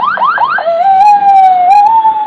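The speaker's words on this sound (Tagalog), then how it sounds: "Ito na, ambulansya." An ambulance siren sounds in heavy traffic after a road accident. It opens with several quick rising yelp sweeps, then settles into a long, loud wailing tone heard close by, with a little background noise underneath.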